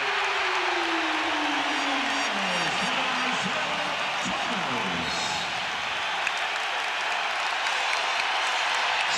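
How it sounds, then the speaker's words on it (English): Crowd roars steadily in a packed basketball arena during a Bulls at Pistons Eastern Conference Final game, a loud sustained wash of cheering that stays high throughout. "Here comes the crowd."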